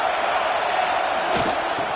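Steady roar of a packed stadium crowd at a Texas A&M versus LSU college football game, loud and continuous throughout, with a brief swell of shouting midway.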